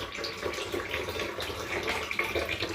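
Water pours steadily into milk to dilute it for bread dough in a home kitchen, a continuous close splashing trickle with no talk over it.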